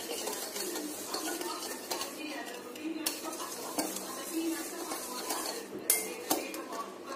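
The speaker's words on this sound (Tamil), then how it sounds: "ஒரு ஸ்பூன் இல்லைனா ஒரு விஸ்க் வச்சு இந்த மாதிரி கலந்து விட்டுக்கோங்க" Sugar and warm water mixed with a spoon or whisk for dalgona coffee, giving continuous close scraping and light clinking against the bowl, with a few sharper clinks near the end and no talking.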